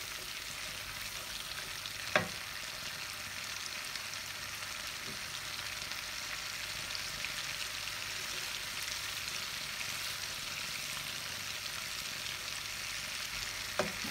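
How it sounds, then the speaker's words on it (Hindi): Cardamom pods and cashew nuts roasting in a pan for sweet rice, giving a steady, even hiss of hot fat throughout with a couple of faint clicks of a spoon, close and continuous, with no voices. "तो अभी हम इनको थोड़ा सा इलायचियों को भूनेंगे।"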